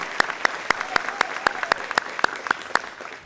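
Applause at a high school graduation ceremony, steady rhythmic clapping with sharp, evenly spaced claps over a low murmur of crowd, fading slightly toward the end.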